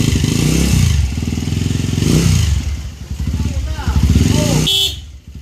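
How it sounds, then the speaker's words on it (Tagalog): Loud vehicle horn blaring in long sustained blasts over rumbling motorcycle engines, close by, with a brief shout near the end. "Lakas ng busina eh."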